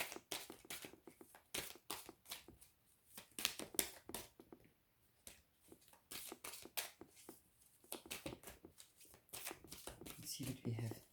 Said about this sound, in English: I'm going to pull one health card.